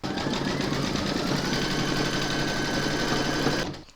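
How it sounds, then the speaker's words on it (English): An embroidery machine stitches a panty liner held in the hoop, giving a rapid, even mechanical chatter close up for several seconds before stopping. "Pop your hoop into your machine and stitch round number 2 to secure it."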